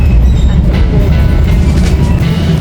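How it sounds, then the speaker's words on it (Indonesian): An Indonesian panoramic passenger train rumbles steadily along at loud volume, a continuous low roar with faint rattling, heard from on board. "Kita mulai jalan lagi ya guys, dengan kereta panoramik Indonesia."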